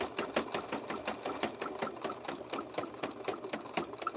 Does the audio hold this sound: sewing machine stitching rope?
yes